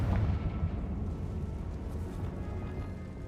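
A Confringo fire spell blast in the Hogwarts Legacy video game, a loud explosive boom at the start followed by a dense, rumbling roar that stays heavy and continuous without any talking.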